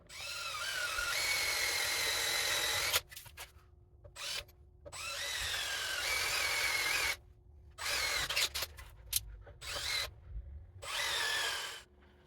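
A power drill bores holes in a metal-and-wood garden table, with several loud, close bursts of whining drilling separated by short pauses and quieter handling noise.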